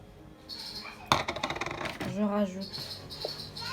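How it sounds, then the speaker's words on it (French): Two eggs cracked and dropped into brioche dough in a bowl, a sharp crack followed by a brief wet splat and clatter, with a soft voice speaking quietly in the background. "je vais rajouter 2 œufs"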